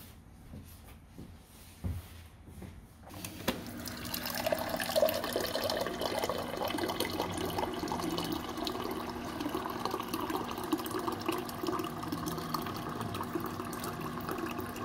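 Indoor tap running to fill a glass, a steady close splash and gurgle of flowing water beginning after a few seconds of quiet handling sounds and continuing to the end.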